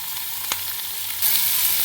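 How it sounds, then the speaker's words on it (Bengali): Chopped onion dropped into frying papaya, ridge gourd, carrot and potato, a steady sizzle with one sharp knock, then swelling louder as the onion hits the oil. "এবার আমি একটু পেঁয়াজ কুচি দিয়ে দিচ্ছি দিয়ে আবার কিছুক্ষণ একটু ফ্রাই করে নেবো"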